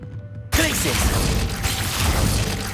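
Glacius ice spell in Hogwarts Legacy freezing and shattering, a sudden loud crashing burst that spreads into a sustained, crackling wash of noise, close and forceful.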